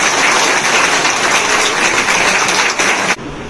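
An audience claps at a Delhi political speech event about public service during a crisis, a loud, dense burst of applause lasting about three seconds before cutting off abruptly.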